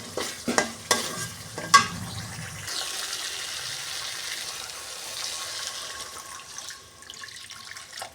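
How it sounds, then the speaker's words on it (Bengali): A few sharp clatters and scrapes come first, then water hits hot spiced oil in a pan for an eggplant dish and turns into a steady, close, bubbling sizzle that continues to the end, with no talking. "এবার আমি এখানে জল ঢেলে দেব"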